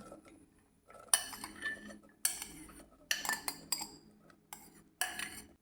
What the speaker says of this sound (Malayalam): ഇനി കഷ്ണങ്ങൾ കുക്കറിലേക്ക് ഇട്ട് കൊടുക്കാം